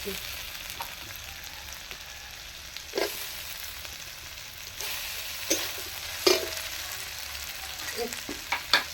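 Chopped onion and tomato fry in a pan for a raw-banana kofta curry, a low steady sizzle running throughout with a few sharp scrapes and clinks of stirring spaced irregularly, the loudest near the middle and the end.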